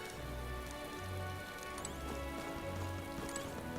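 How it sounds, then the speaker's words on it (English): Steady rain falls in the video game Metaphor: ReFantazio, a soft, even patter of drops on surfaces with faint low rumbles underneath, quiet and continuous for a few seconds. "This bloody rain."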